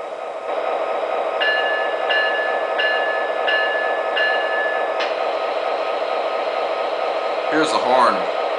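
Repeated clanging strikes of a locomotive bell on an MTH Premier SD50 Norfolk Southern model train, about five evenly spaced rings over a steady engine rumble, ending with a short voice.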